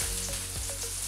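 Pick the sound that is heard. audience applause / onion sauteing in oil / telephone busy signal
onion sauteing in oil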